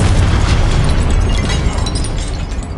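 A Confringo spell blasts in the Hogwarts Legacy video game, producing a loud, continuous explosive roar with crackling debris that holds steady and then fades slightly at the end.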